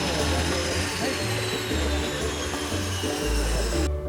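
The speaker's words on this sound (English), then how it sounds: "This is the smallest plane I'm going to sit in." A small passenger plane's engine drones loudly and steadily at close range, with a low throbbing hum that shifts pitch, covering everything else.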